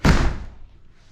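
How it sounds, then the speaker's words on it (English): A door blown shut by the wind slams once with a sharp, heavy thud close to the microphone, then rings out and decays over about a second, with no talking. "That door, when it's any sort of windy outside, it slams shut."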